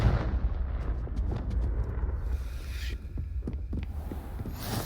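A fire blast spell from the video game Hogwarts Legacy booms with a deep, rumbling explosion, followed by scattered crackles and thuds as the blast dies away.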